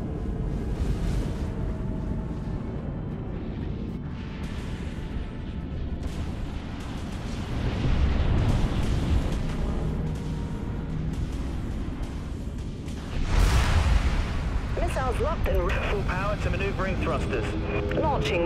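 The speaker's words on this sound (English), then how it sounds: "Launching missiles." Missile launches and heavy explosions rumble through a space battle in the video game Dreadnought, forming a dense, continuous roar with louder surges around the middle and near the end, and a synthetic voice speaking over the combat.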